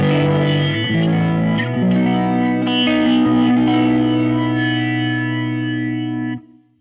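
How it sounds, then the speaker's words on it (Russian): A Fender Mustang Micro guitar amplifier with its flanger effect: a sustained, heavily processed electric guitar chord with a sweeping, jet-like whoosh, playing loud and steady for about six seconds before cutting off abruptly. "Тут фленджер."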